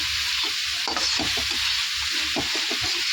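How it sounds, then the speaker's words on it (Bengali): Cauliflower stirred with spices in a sizzling pan, a steady frying hiss with repeated scraping strokes of a spoon against the pan, close and moderately loud, no voices. "কপি এরকম অল্প করে দিয়ে একটু নেড়ে চলে যাবে, মশলাটা ধরে লেগে যাবে।"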